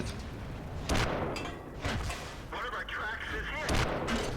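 World of Tanks light tank's 50mm gun firing, with several loud booming shots at intervals over steady engine rumble, layered with other battle noise.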